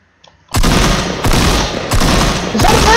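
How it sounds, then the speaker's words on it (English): Shotgun blasts in the Fortnite video game, three loud close booming shots spaced about a second apart, each with a sharp attack and a short ringing tail, following a brief quiet start. "I'm shooting the fence."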